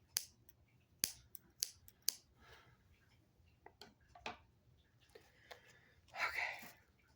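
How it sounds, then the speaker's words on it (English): Scissors snip through thick string in a handful of sharp, close, quiet clicks spread irregularly, with soft handling rustles between cuts. "I guess I should have mentioned you need your handy dandy scissors"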